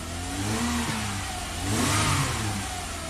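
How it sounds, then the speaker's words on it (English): The engine of a 1994 Lexus ES300, following a timing belt job, is given a little gas, rising from idle into a smooth, moderate rev and settling back, close and steady with no talking. "Give it a little gas."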